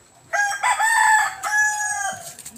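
A rooster crows once at a chicken farm, a loud, close call with a rising start, a long sustained middle and a falling end, heard alone.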